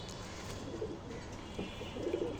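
A female silver pigeon coos softly in a few low, muffled calls, faint against a steady background hiss.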